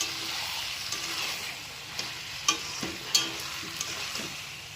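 Vegetables stir-fried in a pan give a steady sizzle, broken by a few sharp scrapes and knocks of a spatula against the pan; no one talks.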